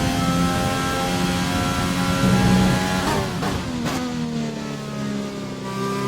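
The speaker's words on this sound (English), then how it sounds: "And also the Ferrari engine in this game is amazing" Ferrari Formula 1 car engine in a racing video game, a loud continuous high-pitched wail that climbs and falls through several gear shifts, with a sharp drop near the middle before revving on steadily.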